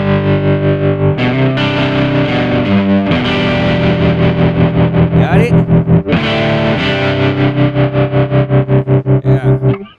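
Electric guitar run through a Kemper tube amp effect with ducking rings out in loud, distorted sustained chords that pulse rhythmically, their attacks left clear while the tail swells, with a short spoken remark in between.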